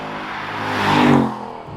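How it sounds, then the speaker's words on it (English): Ford Mustang GT 55th-anniversary model in Grabber Lime, its V8 engine and exhaust building in a rev while driving, swelling louder toward the middle and then easing off, with no voices. "because of this ridiculous engine and the noise it makes"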